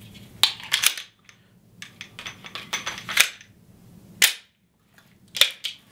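An HK45 handgun is handled and cleared, producing several sharp close metallic clicks and clacks of the slide and mechanism, spaced irregularly with quiet gaps between.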